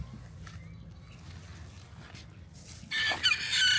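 Quiet rustling background noise suddenly gives way to a loud rooster crow near the end, with its harmonic call rising sharply over the last second.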